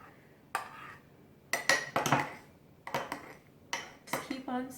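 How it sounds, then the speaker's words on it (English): A spoon clinks and scrapes inside a cup of pumpkin chai latte in several short bursts of stirring, close and fairly loud, with quiet gaps between the bursts. "Just keep on stirring."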